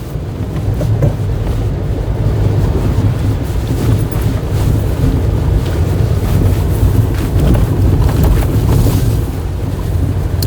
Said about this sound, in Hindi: और एक और झरना गौरीगंगा में समाता हुआ।